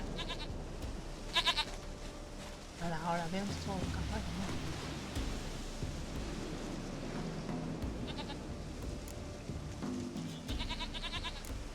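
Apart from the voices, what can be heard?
goat bleating in video game The Witcher 3: Wild Hunt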